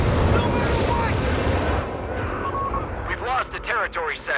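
Incendiary strike landing in a Company of Heroes 3 match, a loud rumbling explosive burst with crackling fire that fades under a caster talking over the action.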